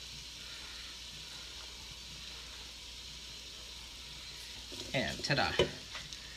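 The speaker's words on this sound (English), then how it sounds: "These are the sliced onions and the diced garlic that are going in here." Sliced onions and diced garlic sauté in a pan with a soft, steady sizzle, then a louder burst of crackling and stirring clatter near the end, with a voice speaking briefly.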